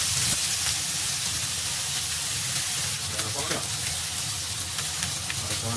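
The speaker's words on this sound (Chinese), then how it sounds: "把鸡翅放到锅中煎至两面金黄。" Chicken wings pan-frying in a little oil in a hot pan, a steady loud sizzle and hiss running throughout with a few soft clicks and stirring touches, no talk.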